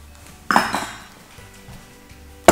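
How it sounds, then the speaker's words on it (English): Water kefir grains are poured through a plastic strainer, giving a loud clattering splash and clink, a fading trickle, then another sharp knock at the end, close and without talk. "I'm just going to use a plastic strainer. Strain those off."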